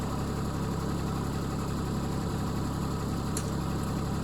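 A tractor engine idles steadily in a low, constant rumble with vibration, close by and continuous, no voices.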